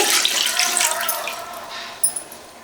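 Water pours steadily into a pot for cooking sago-vermicelli milk pudding, a loud hissing stream that thins out, followed by a couple of brief metallic clinks near the end.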